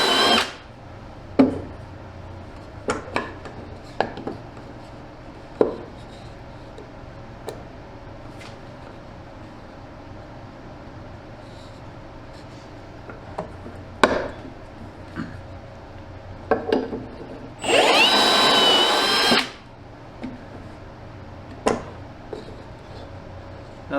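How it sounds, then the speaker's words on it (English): A power drill bores pocket screw holes with an older-style Kreg jig while building a tiny home fixture: scattered knocks and clatters, then one loud, steady two-second drilling burst near the end. "I decided I'm going to put my fixture together with pocket screws, so I'm using this older style Craig jig. Just put a few holes in it."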